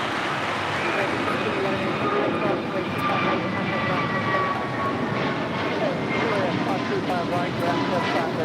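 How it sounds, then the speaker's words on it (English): An American Airlines Airbus A321neo takes off from LAX with a loud, steady jet roar that holds for the full stretch, a voice speaking faintly underneath. "This is American Airlines 265 taking off to Lihue on an A321neo"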